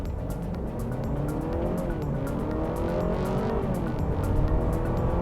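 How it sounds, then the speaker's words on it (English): A Honda Civic e:HEV RS hybrid accelerates uphill at full throttle on a track, its steady drivetrain whine rising in pitch over loud road and wind roar with a faint tire squeal. "I'm going to full throttle."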